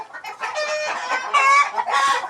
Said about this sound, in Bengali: এটা আবুল ভাইয়ের মুরগির খামার